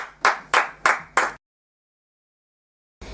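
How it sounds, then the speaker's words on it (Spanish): Four distinct, evenly spaced hand claps ring out close and loud, followed by abrupt silence and then a faint return of room sound. "Un aplauso para Nikola Tesla."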